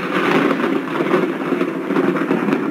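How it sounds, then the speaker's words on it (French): A steady, dense rumble with a hissing wash over it, like rolling thunder heard outdoors, loud and continuous with no speech. "là, on entend le tonnerre"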